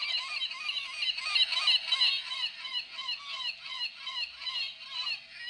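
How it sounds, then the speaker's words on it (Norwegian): A seagull toy plays recorded gull calls when its button is pressed, a rapid run of loud, honking squawks that carries on for several seconds with no voices over it. "lager den seriøst måkelyder."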